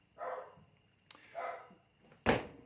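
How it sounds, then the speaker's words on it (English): A dog barks several times nearby, three separate loud bursts spaced about a second apart, heard on their own with no one talking. "Sorry, my dog."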